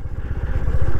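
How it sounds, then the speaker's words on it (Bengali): A Suzuki V-Strom motorcycle's engine runs close by at a view point in Tinchuley, Darjeeling, with a steady low, pulsing throb that stays loud for the whole second as the bike is parked. "আগে বাইক পার্কিং করি"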